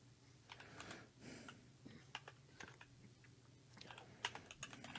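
Fingers type on a computer keyboard in quick uneven bursts of soft clicks, with brief pauses between runs, heard close and faint with no talking.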